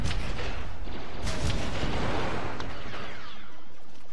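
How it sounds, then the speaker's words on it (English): Grenades explode one after another in a Star Wars Battlefront 2 battle on Crait, a steady wash of loud booms and blasts with sharper cracks near the middle and toward the end, and no talking. "I'm just taking random grenades and throwing them"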